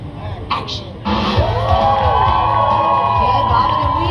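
An audience at an animal actors stage show cheers loudly, with a sudden burst of crowd cheering, whoops and children's shouts that stays strong to the end.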